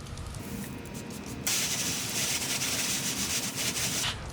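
A spray nozzle hisses as Hydro Blue water-activated nano coating is sprayed onto a wet car outdoors, starting as a soft rub and then becoming a steady, louder spray.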